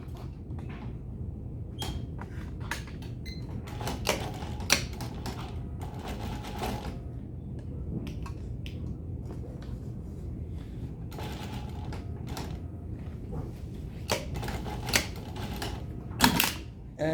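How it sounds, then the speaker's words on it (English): A sewing machine stitches a 1/2-inch seam on a bustier busk closure, a steady mechanical whir broken by irregular clicks and taps, close and moderately quiet with no talking. "All you have to do is start sewing your 1/2-inch seam."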